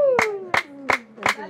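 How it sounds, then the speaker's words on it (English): Four sharp, evenly spaced hand claps ring out on the set of a couples game show, close and distinct, over a sliding tonal voice-like sound in the background. "A round of applause."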